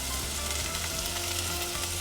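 Shrimp sizzle and fry steadily in hot oil in a pan, a dense continuous crackle close to the microphone with no voices.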